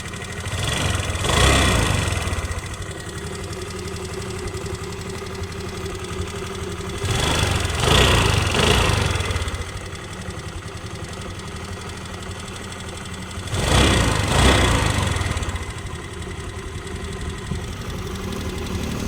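A car engine runs at a steady idle, rising in three periodic revving surges before settling back to a low rumble.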